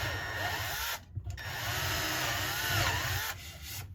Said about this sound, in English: I'm going to take a slightly bigger drill bit